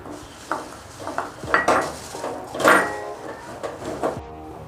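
Puffed rice poured into a mixture and stirred in a metal vessel, giving close crackly rustling and repeated spoon scrapes and clanks in uneven strokes, with no speech.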